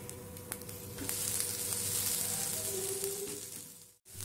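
Steady, close sizzling of dosa batter frying on a hot pan over medium flame, a soft continuous hiss with small crackles, ending in a brief pause.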